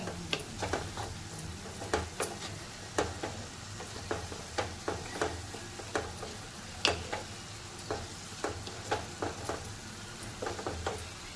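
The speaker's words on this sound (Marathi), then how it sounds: "आपण झाकण काढून एकदा फिरवून घ्यायचं त्याला।" Onions sizzle and are stirred with a spatula in a hot pan while dried bombil masala cooks with brinjal and potato. Steady frying hiss runs under regular scraping ticks of the spoon against the pan, close and fairly quiet.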